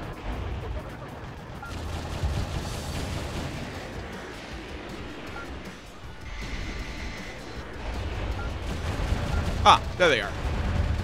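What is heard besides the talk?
enemy gunfire in the video game Metal Wolf Chaos XD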